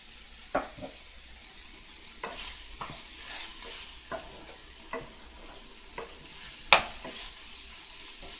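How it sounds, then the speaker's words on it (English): Ground beef seasoned with salt and pepper frying in a pan for a Puerto Rican tripleta sandwich, a low constant sizzle broken by about a dozen sharp scrapes and clacks of a utensil stirring the meat. "now while we're cooking the ground beef"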